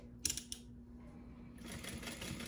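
A sewing machine bastes fabric for a crossbody bag in two quiet bursts of rapid stitching, separated by a short pause.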